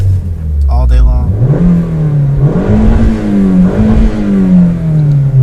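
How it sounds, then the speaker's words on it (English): A manual-transmission car's engine revs up repeatedly while sitting in neutral on a slight incline, the pitch climbing and settling in loud, close surges as someone speaks over it. "I can rev my engine like this"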